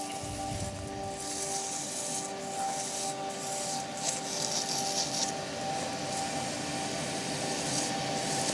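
A hybrid resin-and-wood turning is sanded on the lathe with the next grit, giving a steady, close rubbing hiss over a constant motor hum throughout, with no voices.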